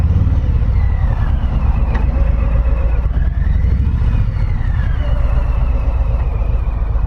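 A first-year Harley-Davidson Softail Low Rider 107 motorcycle rumbles steadily at a loud, deep, throbbing idle-to-cruise pace, the engine drone continuous and close, with subtle rising pitch sweeps and wind noise.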